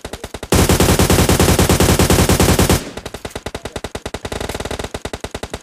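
Rapid bursts of automatic gunfire rattle in quick succession, a dense loud volley followed by lighter sustained firing, from a video game.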